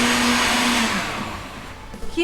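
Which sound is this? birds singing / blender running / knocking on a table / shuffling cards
blender running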